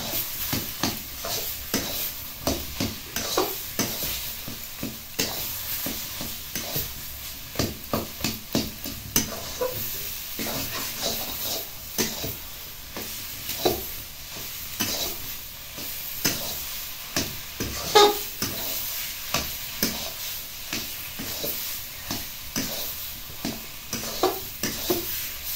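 Taro greens with sesame and parboiled rice stirred in a hot pan, giving steady repeated scraping strokes over a soft continuous sizzle for the whole stretch, with no voices.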